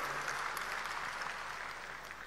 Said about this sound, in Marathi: आपण सर्वांनी टाळ्या वाजवून स्वागत करावं